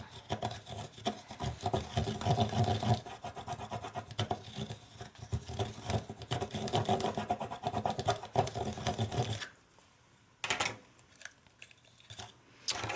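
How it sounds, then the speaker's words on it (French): A bone folder pressed and rubbed firmly along a paper fold in an oval Easter basket craft, giving a steady close rasping scrape in long strokes that stops briefly near the end, then returns. "avec mon plioir, je viens bien écraser dans le fond"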